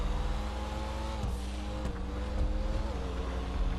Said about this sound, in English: I just realized this has a better exhaust sound as well